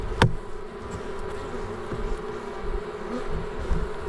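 Honeybee colony in an early-season hived swarm, a steady close hum of many bees droning continuously with a sharp brief buzz near the start as a single insect passes close.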